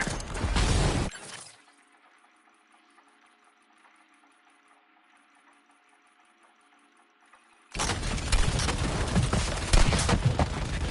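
Bursts of gunfire in Suicide Squad Kill the Justice League, loud and sharp at the start, then a quiet stretch with a faint mechanical hum, before heavy firing resumes to the end.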